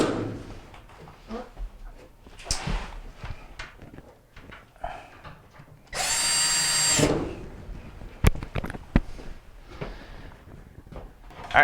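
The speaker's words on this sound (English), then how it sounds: "now we're going to get down and tighten the 2 screws that we left loose at the bottom" A power drill tightens two Phillips screws at the base of a GE dryer under repair for a screeching upper bearing, with one loud sustained whir near the middle amid scattered clanks and handling knocks.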